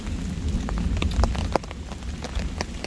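Heavy rain pours down during a thunderstorm at a solo overnight campsite under a tarp; there is dense, steady drumming with sharp close drops spattering throughout and a low rumble beneath, and no one speaks.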